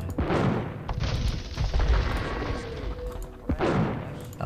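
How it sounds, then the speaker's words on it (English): Bombard cannons in Age of Empires II firing during a Mongol campaign battle, heavy booming shots landing in bursts with several loud blasts over a steady rumble of combat. "Bombard cannons are actually OP"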